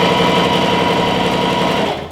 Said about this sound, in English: I'm going to sew a 1/2 inch in.